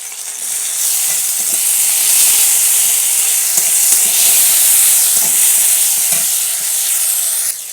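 Tomato paste sizzles loudly in hot oil with whole spices and slit green chillies for a potato curry, a steady close, bright hiss that runs almost unbroken throughout, with a few soft stirring knocks underneath.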